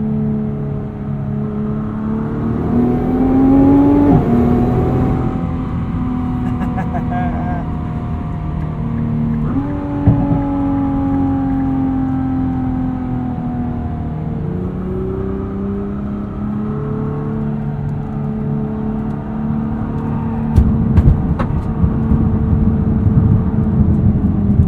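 A 2021 Nissan GT-R Premium set to R mode accelerates hard, its engine whirring up through several gear changes with rising revs and drops between shifts, heard from inside the cabin at a strong, steady level.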